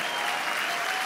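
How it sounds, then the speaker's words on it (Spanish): A church congregation claps loudly during a sermon, a dense, continuous burst of applause filling the brief moment. "Denle un aplauso fuerte al Señor."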